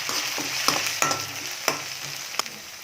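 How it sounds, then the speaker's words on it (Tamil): Ginger garlic paste frying with onions in a pan for an egg puttu dish: a steady sizzle with several sharp scrapes and taps of a spoon stirring, close and clear, no voices. "இஞ்சி பூண்டு பேஸ்ட் போட்டுக்கலாம். பச்சை வாசனை போகிற அளவுக்கு நல்லா வதங்கட்டும்."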